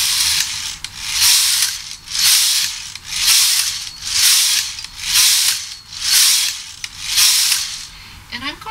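Knitting machine carriage sliding back and forth across the needle bed knitting rows of a slant lace scarf, eight regular whooshing, rattling passes about one second each, close and steady.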